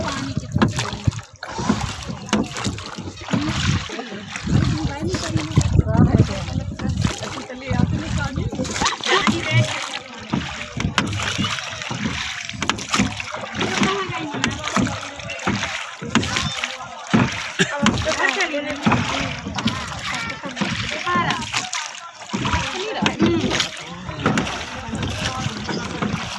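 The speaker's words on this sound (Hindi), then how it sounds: "देख मना नाव चलती है साइड से" A boat moves along a river, its hull sloshing and splashing through the water in continuous, uneven surges over a wind-blown background, with people talking throughout.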